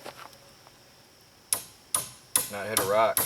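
Sharp metallic hammer strikes drive a metal stake into the ground four or five times at a steady pace, each a loud clang with a brief ringing tail, after a quiet start.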